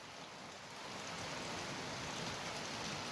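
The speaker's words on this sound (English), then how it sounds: "this environment are very cool and rainy day." Steady rain falls on a cool, rainy day, a dense even hiss that grows slightly louder after the first second and stays constant, with no voices over it.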